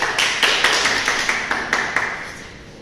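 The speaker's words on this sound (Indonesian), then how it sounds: "yang bisa tepuk tangan untuk adik-adik dulu" Children clapping in a classroom, a rhythmic series of about ten distinct claps in a steady beat, fairly close and fading slightly toward the end.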